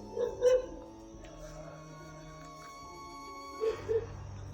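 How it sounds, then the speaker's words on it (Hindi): Dogs bark from a distance at night outside a mortuary, in two brief clusters of a few barks each, faint over a low steady hum. "कुत्ते चारों तरफ से भौंक रहे हैं"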